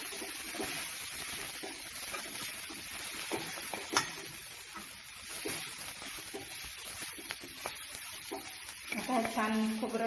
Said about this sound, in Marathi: आता छान खोबरं थोडं लालसर होईपर्यंत परतून घेऊ